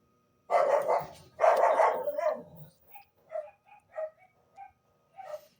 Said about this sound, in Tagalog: Yun yung aso namin.